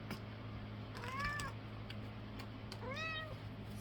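A house cat gives two short, rising meows about two seconds apart, near and fairly clear against a steady low hum, with no talking.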